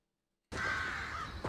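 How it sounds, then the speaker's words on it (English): A crow gives one sustained harsh caw in a TV show, sudden and fairly loud after a moment of silence, ending with a brief second rasp. "It's too many birds."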